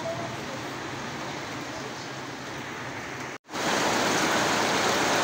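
Heavy rain pours down on an outdoor laundry spot covered with a tarp, a loud, constant hiss of downpour that briefly cuts out, then returns even stronger and denser.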